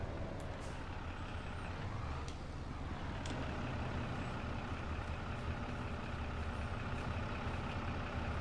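A tractor engine runs in Farming Simulator 25 as a steady, low, faint idling rumble that holds unchanged throughout, with no talk over it.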